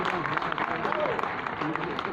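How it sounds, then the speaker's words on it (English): An auditorium audience at an international conference applauds, a moderate, uneven patter of clapping under a busy room, with a voice partly audible over it. "So a big applause for him."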